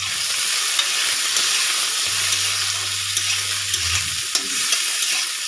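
Onion and chopped garlic fry in a pan for a simple chicken stew, with a constant close hiss of sizzling and occasional soft scrapes from stirring.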